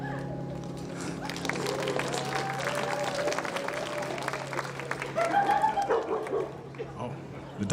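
An excited dog barking repeatedly, in short yips and woofs, outdoors near the Cornell Chimes bell tower during its sesquicentennial celebration. A voice talks over it, with crowd murmur in the background.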